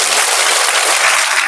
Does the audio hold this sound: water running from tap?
no